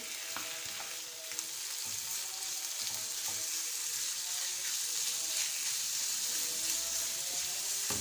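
Chicken sizzles and fries steadily in a pan with softened onion and garlic, a continuous loud crackle with occasional stirring scrapes and no voices.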